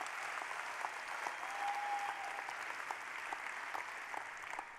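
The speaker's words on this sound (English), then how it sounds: "Give yourselves a round of applause." An audience at a school district convocation gives sustained applause, a broad wash of many hands clapping that stays steady and continuous throughout.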